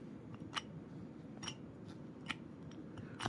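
Direction switch on a GEARWRENCH 33-piece SAE socket set ratchet, with a Husky 144-tooth ratchet alongside: a few short, sharp clicks spaced about a second apart over steady background hiss, fairly close.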